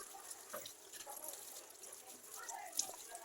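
Water running and trickling while sweet potato leaves are washed, a faint, steady splashing close by with no clear voices.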